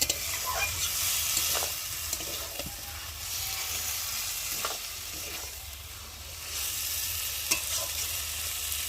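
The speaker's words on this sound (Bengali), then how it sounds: "এখন আমি ভালো করে একটু মশলার সাথে কষিয়ে নিই।" Lota fish, or Bombay duck, sautéed with spices in a pan, giving a steady close sizzle with repeated scraping and tapping of a spatula as it is stirred, and no talk.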